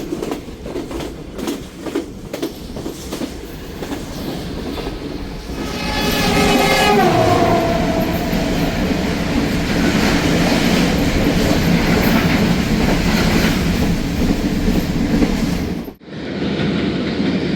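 A long container train passes through a town in Pakistan. Loud rumbling and clattering wagons carry on steadily, a horn sounds midway through, and the noise cuts off abruptly near the end.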